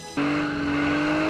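A drifting car's tires squeal at a speedway in a sudden loud onset that holds as a sustained high screech with engine roar underneath, close and continuous for about a second.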